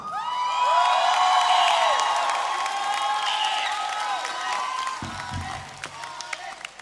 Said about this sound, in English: Can you cheer for her?